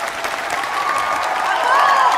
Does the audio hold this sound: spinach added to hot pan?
no